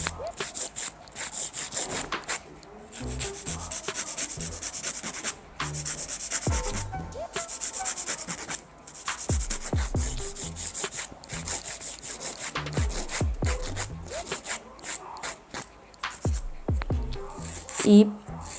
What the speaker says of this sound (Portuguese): A dica aqui é usar a lixa sempre reta.